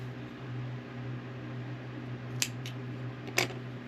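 Scissors snip red yarn on a crochet amigurumi, two sharp close clicks over a steady low electrical hum, with no talking.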